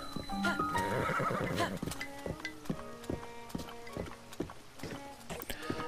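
A horse in a video game ridden near Kakariko Village gives a loud whinny, followed by a steady clip-clop of hooves. The sound is close and clear, with game sounds behind it.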